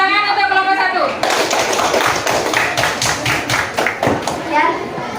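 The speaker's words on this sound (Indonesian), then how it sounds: "Tepuk tangan untuk kelompok 1." A class applauds a presenting group after their answer, dense clapping from many hands filling most of the clip while a voice talks over it near the start.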